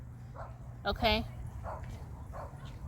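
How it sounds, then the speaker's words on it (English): A dog barks close by in a short burst of a few yips and a bark during a pause in a person's speech, with a quiet room background. "Excuse the dog barking."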